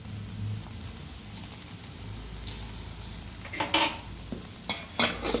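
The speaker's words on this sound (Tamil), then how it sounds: "அப்படி கிண்டுங்க." Kothu parotta with egg and onion being stirred and chopped in a pan, sparse metallic clinks and scrapes of utensil against metal, a few sharp taps clustered toward the end, no talking.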